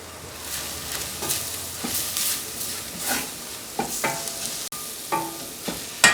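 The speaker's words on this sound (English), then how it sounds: "Add the herbs and the spices to the pot and fry this for a short amount of time." Herbs and spices frying in a pot for beef barbacoa, soft sizzling with stirring scrapes and occasional clinks, fairly quiet and close, no talking.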